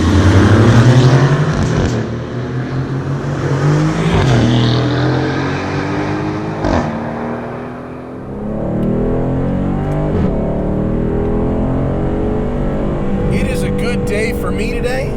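A 2019 Aston Martin Vantage with its powertrain in track mode pulls away, the engine note rising through several gear changes with a steady loud road roar, close to the car.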